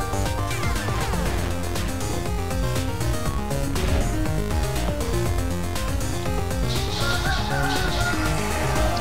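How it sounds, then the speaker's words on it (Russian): Roosters crowing and clucking in Call of Duty Black Ops zombies mode, loud and mixed into a dense, constant wall of game music and effects. "Это что за петуши?"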